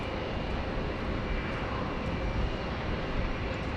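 A heavy airliner departing Sydney Airport, its engines giving a loud, steady broadband roar that holds evenly throughout without any voices.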